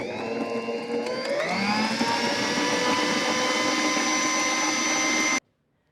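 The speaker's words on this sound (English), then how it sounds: "1/2 cup of butter, room temperature, going in the mixer. 1/2 cup of shortening. You're going to mix these together." An electric stand mixer beating room-temperature butter and shortening, a loud steady motor whine that rises in pitch as it speeds up, then stops abruptly.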